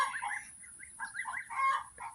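Geese and goslings on a farm honk in a quick series of soft, overlapping calls at close to moderate distance, with no voices over them.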